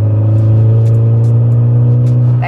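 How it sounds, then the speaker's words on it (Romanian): A loud, close Volkswagen Golf 6 engine holds a deep steady drone with a higher turbo whine on top, a brief rising burst of throttle near the end. "apeși doar puțin accelerația și o ridici puțin să vezi să se aude turbina"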